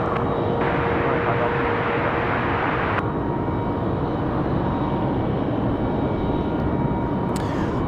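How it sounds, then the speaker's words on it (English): A steady, loud roar of an airplane engine at Raleigh-Durham International Airport on a windy day runs throughout, broadband and continuous, with a slight shift in tone partway through. "I enjoy hearing all the mechanical noises of the planes and things"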